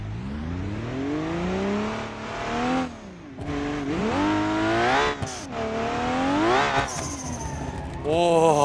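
A car engine in BeamNG.drive revs and accelerates through a five-speed gearbox, rising loudly in repeated climbs with shift breaks between them and a short lull in the middle.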